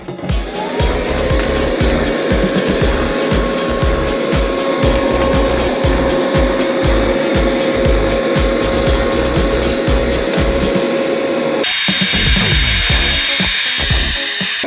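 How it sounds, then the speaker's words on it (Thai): An OSUKA OCVC882-M1 shop vacuum fitted for wet pickup sucks up spilled water on a kitchen floor, a loud steady motor roar with a constant whine, overlaid with rhythmic scraping and gurgling from the nozzle. "เวลาเราดูดน้ำนี่มันต้องไปช้าๆนะแต่มันดูดได้ครับ"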